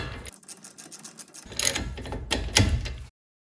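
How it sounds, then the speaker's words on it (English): A hand ratchet snugs brake caliper bolts on a 2018 Chrysler Pacifica, producing close, rapid clicking bursts that grow louder toward the end, then stop into silence. "I'm just going to tighten them until I feel tension with the ratchet."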